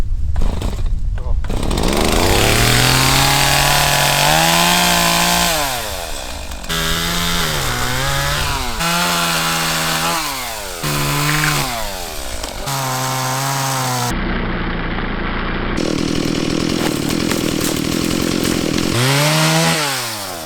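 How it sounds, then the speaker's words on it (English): A chainsaw with a brand-new chain cuts through a red wood log in a state forest, revving up and bogging down repeatedly in loud, close bursts with pitch sweeps as the blade bites. "I'll just chainsaw it off"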